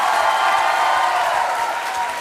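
A studio audience claps steadily and fairly loudly, a dense, even patter of applause that holds level for a couple of seconds with no voices over it.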